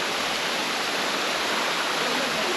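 Manneera waterfall in Konni, Kerala, pours as a loud, steady, broadband rushing roar, close and continuous without any breaks.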